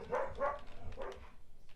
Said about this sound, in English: Oh, my dogs are acting crazy.